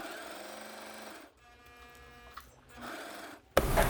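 A sewing machine runs steadily as it stitches a seam, a whirring motor hum that pauses briefly, resumes, and ends with a sharp clatter.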